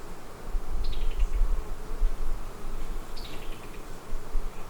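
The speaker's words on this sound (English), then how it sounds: "I just dropped a bunch of bees on the ground" Honey bees drone steadily close by during a hive inspection, a continuous buzzing swarm with a couple of higher whining passes as individual bees fly near, and no talking.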